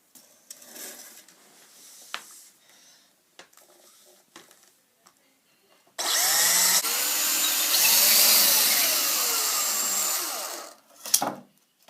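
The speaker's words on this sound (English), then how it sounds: "Drill a hole right here, same size as the cable." A power drill whines steadily for several seconds, loud and close, after quieter clicks and handling noises, then winds down.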